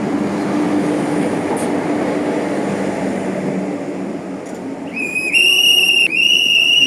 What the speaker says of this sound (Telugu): వచ్చేసింది మన ట్రైన్.